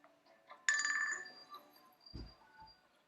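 A telephone rings during an online webinar, one short bright electronic ring burst that fades out, followed by a faint thud and other quiet background sounds.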